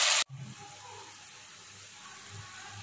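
Water poured into a cooking pot of simmering fish curry, a brief loud gushing pour that stops abruptly, followed by a quiet low simmer and faint kitchen background.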